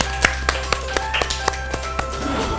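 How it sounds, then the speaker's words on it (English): A small audience claps at a children's talent show, sparse separate claps arriving every half second or so over a faint steady hum. "Let's give her a round of applause."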